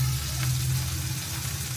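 Masala added to finely chopped tomatoes in a hot pan gives a steady, loud sizzle with faint stirring, continuous and close.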